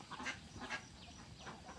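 Several ducks on a duck farm give a few quick, faint quacks in short succession, heard from a distance with no talk.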